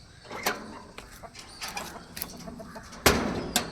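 Aseel chickens clucking inside a cage, with scattered short calls and a louder burst near the end over faint background rustling.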